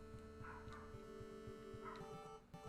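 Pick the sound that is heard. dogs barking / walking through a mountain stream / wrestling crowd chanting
dogs barking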